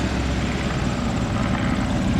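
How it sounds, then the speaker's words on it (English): A Fokker Dr. I triplane, a World War I fighter, taxis at an airfield at Old Rhinebeck Aerodrome, its propeller engine giving a loud, steady, rumbling drone that fills the whole stretch without pause. "The Fokker DR1 triplane taxiing to the south end."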